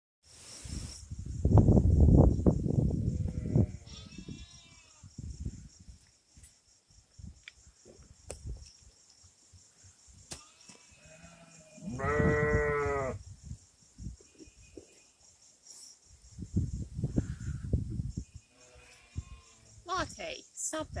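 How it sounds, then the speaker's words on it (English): Recently washed sheep on a fiber-arts farm let out a couple of clear bleats at close range. A person talks nearby over low rustling and chewing noises. "The sheep are obsessed with me."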